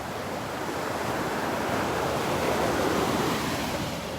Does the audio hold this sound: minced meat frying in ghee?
no